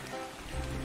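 Steady rainfall in ARK Survival Evolved, a brief continuous hiss of drops without any talking.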